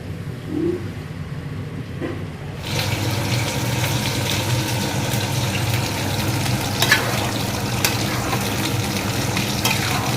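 Black cumin seeds fry in oil in a wok, a dense, steady hiss that starts abruptly a few seconds in and continues close and even, with a few faint scrapes and no voices.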